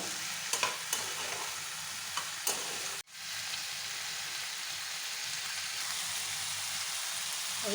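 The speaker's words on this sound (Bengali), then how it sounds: "এই টমেটো সস দিয়ে দিলাম টমেটো টমেটো সস দিয়ে ভালো করে নেড়ে নেব" Watermelon rind curry with tomato sauce being stirred in a pan, a soft steady sizzle with a few scraping stirs early on and a brief knock, quiet and without voices.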